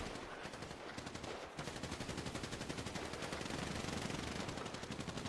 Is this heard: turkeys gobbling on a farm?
no